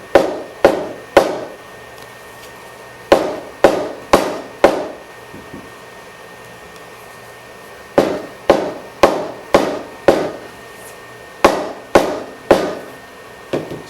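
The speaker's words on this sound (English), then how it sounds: "Give it a few good whacks." A hammer whacks leather from the inside in sharp, loud, evenly spaced knocks that come in groups of three to five with short pauses between the groups.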